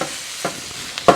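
Macaroni noodles boiling in a pot are stirred with a utensil, giving a few soft scraping strokes and a sharper clink near the end over a faint bubbling hiss.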